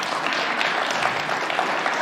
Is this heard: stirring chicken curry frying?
no